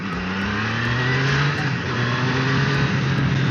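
A Triumph Daytona 660 motorcycle, still being run in, accelerating with a rising engine note through the gears, steady and fairly close with no talking.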